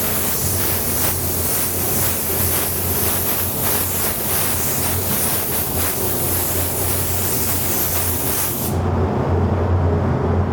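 A spray gun lays down a light second coat of candy paint in a steady, continuous hiss that runs loud and close for most of the stretch before cutting off abruptly near the end.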